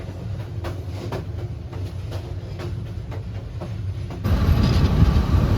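Bijoy Express train at Mymensingh junction, a steady rumbling rail noise with faint rhythmic clicks that grows louder and rougher near the end, no voices.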